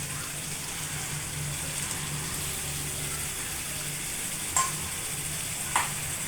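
Biryani ingredients fry in a pot with a steady, even sizzle that holds throughout, joined near the end by two brief metallic clinks of a spoon.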